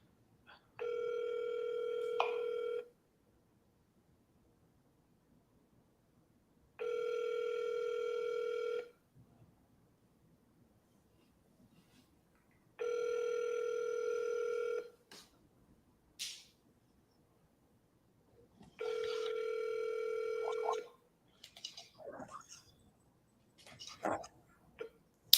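Ringback tone of an unanswered phone call: four evenly spaced two-second rings with long silent gaps between them, followed by faint clicks and line noise.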